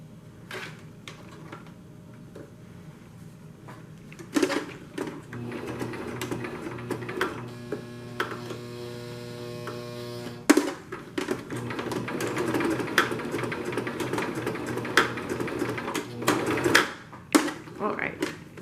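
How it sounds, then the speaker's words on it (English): A sewing machine stitches the side of a pleated fabric face mask, running in a steady mechanical whir for several seconds midway with stops and starts, surrounded by clattering handling noises and fabric rustle. "sew it about 1 inch down from the top on the right side of the fabric"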